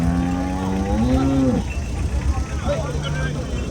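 A cow moos once at a busy weekly cattle market in Chintamani, a long rising low call standing out over crowd babble and distant traffic.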